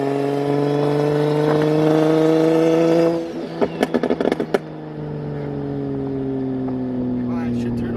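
A BMW N54 single-turbo car holds a droning exhaust note, then lets off into a quick burst of crackling, popping burble before the engine settles back to a lower hum, all heard up close.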